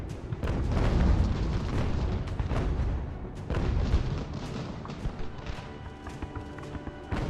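Cannon fire in the Ultimate General: American Revolution video game, a series of heavy booms and rumbling blasts overlapping across the battle, loud and near, with no talking.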